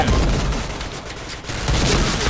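Dense gunfire fills a PointBlank shooter match, heard as a loud, continuous clatter of rapid shots that dips briefly in the middle and then picks up again, with no voices over it.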